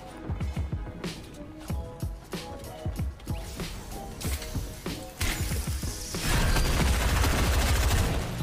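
Rapid gunfire in a video game, quick repeated shots crackling in uneven bursts, then a denser, louder barrage of fire toward the end.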